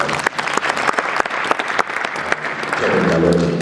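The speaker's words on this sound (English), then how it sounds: "Another beautiful round of applause as well." Audience applause at an ICT summit panel, a dense crowd of clapping hands greeting a panelist, steady and close, swelling louder toward the end with a voice briefly audible over it.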